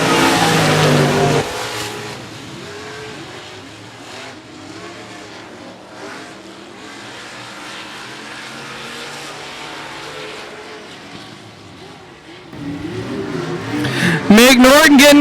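Race cars roar around a short speedway oval under green-flag racing, their engines droning steadily and swelling as the field passes close by. A track announcer talks over the engine noise.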